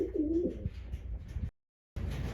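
A domestic racing pigeon from a home loft coos in a few low, rolling calls up close, then falls silent for a moment before a faint rustle returns.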